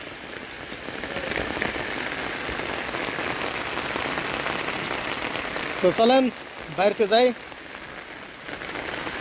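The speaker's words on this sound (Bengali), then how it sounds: "আর দেখো কীভাবে বৃষ্টি" Steady rain patters and hisses on surfaces throughout, with a person speaking briefly near the end.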